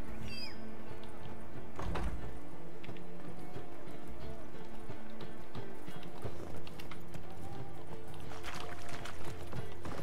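A horse gallops in The Witcher 3 video game, with rapid rhythmic clip-clop hoofbeats running continuously over a game ambience and a brief high tone near the start.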